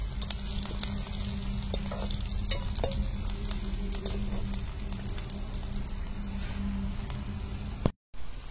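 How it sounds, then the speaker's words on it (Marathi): Onion sizzles steadily in hot oil with curry leaves, with occasional stirring scrapes and a constant crackling hiss that briefly drops out near the end. "कांदा थोडा परतत आला"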